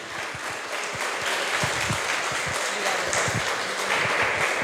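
A church congregation applauding during a missions service, a sustained, even wash of clapping from a room full of people, moderately loud and steady throughout.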